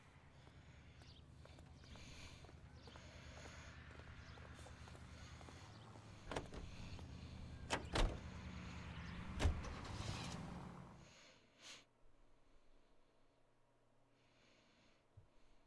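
A car in L.A. Noire rolls along with a steady engine drone and road rumble, punctuated by a few sharp clunks and thumps before the engine noise drops away near the end.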